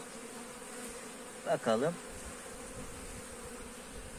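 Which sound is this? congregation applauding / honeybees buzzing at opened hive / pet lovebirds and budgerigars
honeybees buzzing at opened hive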